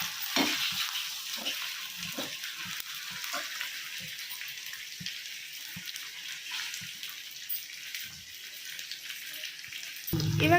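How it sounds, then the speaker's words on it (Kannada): Grated coconut and raw mango roast in oil with green chillies, coriander and ginger-garlic paste for chitranna, a steady soft sizzle broken by repeated stirring scrapes of a spoon in the pan. "ಇದೆಲ್ಲ ಎಣ್ಣೆಯಲ್ಲಿ ಚೆನ್ನಾಗಿ ರೋಸ್ಟ್ ಆಗಬೇಕು"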